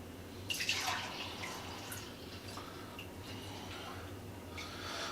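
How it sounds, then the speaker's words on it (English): Homebrewed orange and blueberry wheat beer is poured quickly, giving a faint, steady liquid trickle and splash over a low background hum. "I'm going to do a quick pour here,"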